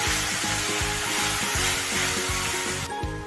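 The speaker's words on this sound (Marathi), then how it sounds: "त्यामध्ये ते खिसून घेतलेलं जे गाजर आहे ते घालूया आणि त्या तुपासोबत आपल्याला एक पाच ते सात मिनिटं छान आपल्याला परतून घ्यायचं" Grated carrot sautéing in melted ghee, for a khoa-free carrot burfi, gives a steady dense sizzle with a rhythmic scraping stir repeating about every half second, close and continuous throughout.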